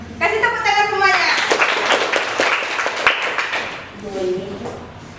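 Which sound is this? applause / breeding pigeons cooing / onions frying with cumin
applause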